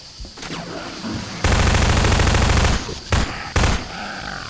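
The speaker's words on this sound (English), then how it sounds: "Kill that zombie as well with the SMG." SMG fire at a zombie in Half-Life 2's Route Kanal, a sustained loud burst of automatic shots followed by two shorter bursts, close and sharp.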